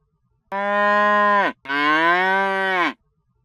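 A bull gives two long, loud, close moos in quick succession, each a deep harmonic bellow lasting about a second, separated by a short gap and surrounded by silence.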